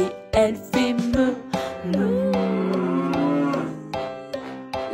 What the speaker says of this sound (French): La vache Lola a des oreilles et elle fait meuh.